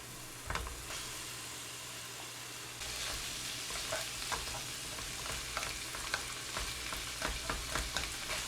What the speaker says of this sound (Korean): 파를 좀 살짝 볶아줘요